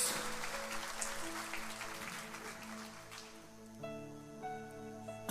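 A church congregation claps together, a moderate wash of applause that thins out as sustained organ or keyboard chords rise underneath.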